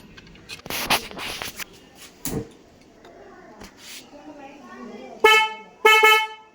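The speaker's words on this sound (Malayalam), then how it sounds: "ഇപ്പോൾ നിങ്ങൾ കണ്ടല്ലോ നമ്മൾ ബൈക്കിൽ ഹോൺ ഫിക്സ് ചെയ്ത് കഴിഞ്ഞു" An air horn newly fitted to a motorbike sounds two loud, sustained blasts near the end, after a stretch of speech, clatter and handling noise.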